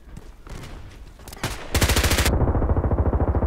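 Bursts of H&K MP7 submachine gun fire ring out in the shooter game Contract Wars, first a few scattered shots, then a loud, rapid, steady automatic stream lasting over a second with trailing echo.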